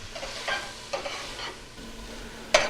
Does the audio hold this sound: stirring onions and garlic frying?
yes